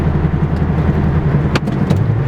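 A Toyota Corolla AE82's 4A-GE engine revs hard from inside the cabin, redlining each gear, a throaty pulsing drone that climbs and shifts with gear changes; loud and close, no talking.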